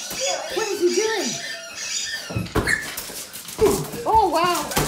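Rottweiler playing with a beach ball inside a house, giving repeated high whimpers and yips with a few bursts of ball thumps and scuffling. Excited people talk over the dog throughout.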